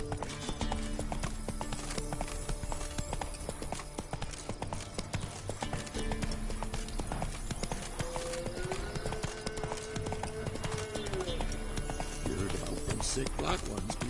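Roach, Geralt's horse in The Witcher 3, gallops with steady, loud clip-clopping hooves throughout, with an occasional whinny, over a busy game soundscape and music; someone speaks briefly.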